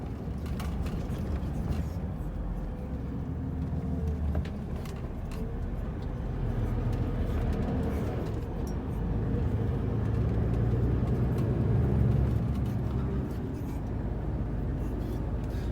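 A truck pulling a semi-trailer drives along at steady speed, its low engine drone and road rumble continuous and fairly quiet from inside the cab, no one talking.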